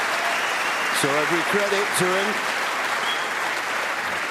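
Applause from a 1,900-strong snooker crowd at Alexandra Palace during a Masters semi-final, steady and loud throughout, with a commentator speaking briefly over it.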